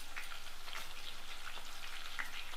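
Dry red chillies frying in hot oil for a tempering for gongura pickle, giving a steady, continuous sizzle with faint crackles, close and alone, no voices.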